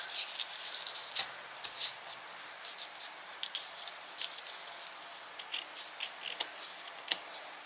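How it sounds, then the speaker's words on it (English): Scissors snip excess ribbon off a knotted bow on a handmade greeting card, giving a series of crisp, close cutting clicks and rubbing sounds spaced irregularly in a quiet room. "And then I'm just going to cut my excess because I want to keep these relatively short."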